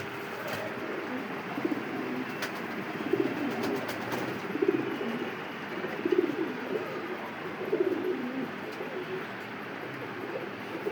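Koka pigeons at a fancy pigeon farm coo in soft, repeated bursts about every second and a half, moderately close over a steady background hiss.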